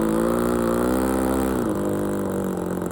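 A Vintage Cub RC airplane's small engine runs close and loud, a buzzing drone that rises in pitch as throttle is added and then settles lower, steady throughout with no talking.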